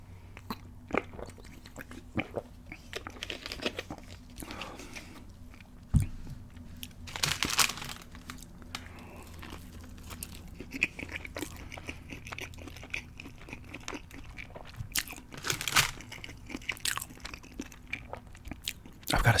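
Gas station chicken sandwiches being eaten close to the mic, with crisp bites and crunchy chewing in irregular bursts, plus occasional wrapper crinkles and sharper snaps, and no talking.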